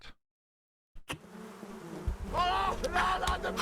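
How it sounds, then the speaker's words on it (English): Insects buzz close by, a swarm of bees droning steadily and growing louder, with rising and falling wingbeat tones after a brief silence and a sharp knock. "Oh God, bees!"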